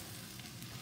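Masala for vada pav frying in a pan, a soft continuous sizzle, quiet and close.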